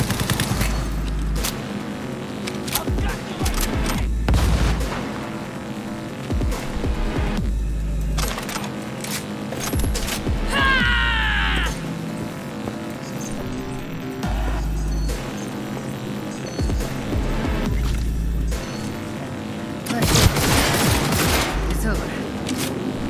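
Rapid bursts of tech precision rifle fire in the video game Cyberpunk 2077 ring out amid combat, mixed with explosions, game effects and voices talking throughout.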